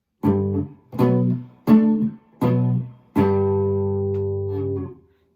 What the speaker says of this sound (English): Last time I talked about power chords, which sound like this.